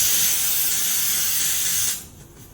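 A pressure cooker on a stove, cooking beef curry, hisses loudly and steadily for about two seconds before cutting off sharply.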